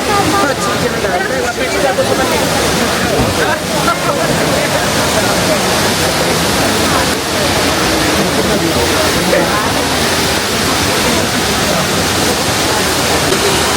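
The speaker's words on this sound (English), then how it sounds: "this is Trevi Fountain, most famous Roman fountain in Rome" The Trevi Fountain in Rome sends water splashing and rushing continuously into its basin, a dense, loud, steady roar of falling water that covers the whole span.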